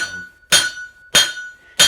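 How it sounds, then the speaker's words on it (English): A square hammer strikes a hot metal rose on an anvil three times in slow succession, each blow ringing bright and metallic with a sustained high tone hanging between strikes. "I'm actually not hammering on the flat, I'm hammering down on the bias"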